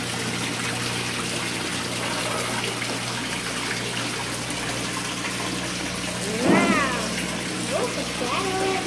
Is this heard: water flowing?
yes